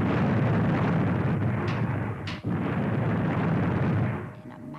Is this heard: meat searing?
no